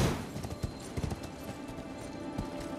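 Horse hooves clip-clop as a rider moves through Elden Ring, a quick run of hoofbeats that starts loud and close and then settles to an even trot, with no talk over it.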